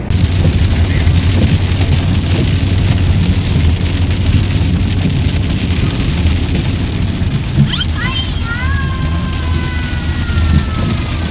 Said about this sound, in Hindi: अभी गर्मी थी और एकदम से तूफानी बारिश शुरू हो गई है